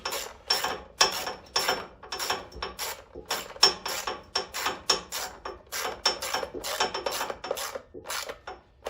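A ratchet wrench snugs bolts during a propane conversion of a Powerhorse 13000ES generator, giving rapid clicking bursts in short back-and-forth strokes. The sound is close and clear, with no talk.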